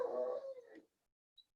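Fletcher, a pet dog, lets out a single short whine or bark close by that trails off quickly into silence, followed by a faint brief chirp.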